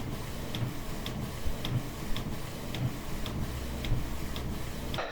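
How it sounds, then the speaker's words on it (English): A photo printer feeds a test print onto general purpose paper, giving a regular series of soft mechanical ticks and clicks about once a second over a low running hum, close by and with no talk. "here then is my test print using Keith's image"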